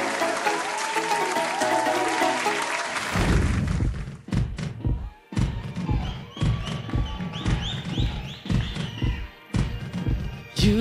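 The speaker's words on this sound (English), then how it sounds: "please put your hands together and give a huge round of applause to Patrick Tony" A talent show audience applauds a contestant, a dense burst of clapping over music that gives way to heavy thuds and taps at close range.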